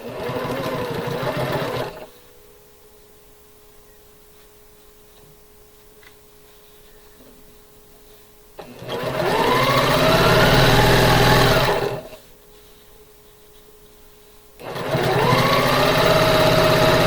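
A sewing machine stitches a quilt block seam in three separate runs, each a loud, steady mechanical whir lasting a few seconds, with quiet pauses between.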